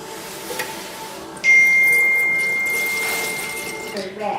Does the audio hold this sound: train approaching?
no